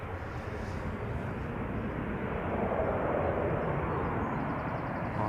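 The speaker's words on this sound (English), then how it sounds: "This is KLM flight 929, outbound to Inverness." A KLM passenger jet bound for Inverness departs Schiphol Airport, its engines making a steady broadband roar that holds fairly even and grows slightly louder partway through, heard from a distance with no voices.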